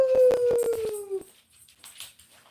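Dog howling, a rising and falling tonal howl that lasts about a second up close, with a faint voice imitating a wolf howl around it, then quieter yips and rustling.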